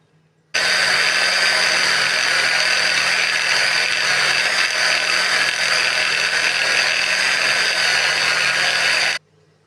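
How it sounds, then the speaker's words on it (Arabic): An electric grinder runs steadily for about nine seconds, grinding kofta and rice ingredients into a smooth paste. The whine is loud and constant and starts and stops abruptly, with no talking. "لحد بس اما نطحن شوية المكونات دول وهنكمل الباقي"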